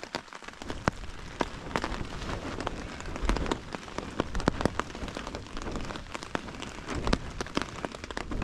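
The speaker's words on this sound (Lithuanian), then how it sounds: "Kol susitvarkėm, lietus nustoja." Rain falls beside Gauštvinis lake, a dense, even patter of drops striking a nearby surface, with sharper individual taps scattered throughout.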